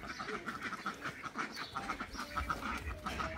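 Penned-up domestic ducks quack in quick, repeated bursts, several birds calling close by with a few small pauses.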